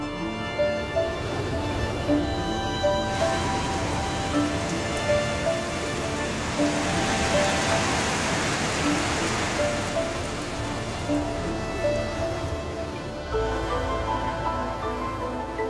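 Rain falls in the Corsican mountains as a steady, dense wash of patter with some wind, continuous and fairly close throughout, with no one speaking.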